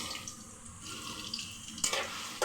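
Whole cumin, cardamom, bay leaf, cinnamon and dried chili fry in hot oil, a steady soft sizzle with faint stirring clicks near the end, close but quiet, no talk.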